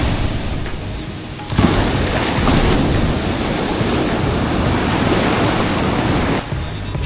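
Sea waves roll onto Puri beach at sunrise, a loud, continuous wash of surf with a stronger surge breaking in early, heard close with wind rushing over the microphone.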